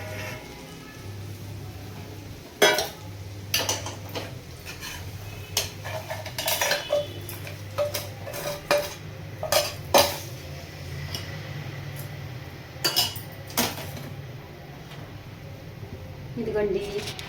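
Chickpea (senagala) patoli curry is spooned from the pan into a bowl, with sharp, scattered metal-utensil clinks and scrapes over a low, steady background hum.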